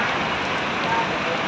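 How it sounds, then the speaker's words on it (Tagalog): Steady hiss of rain falling on a surface at a market in Zamboanga Sibugay, dense and fairly loud, with no clear voices. "Inabot ng ulan dito."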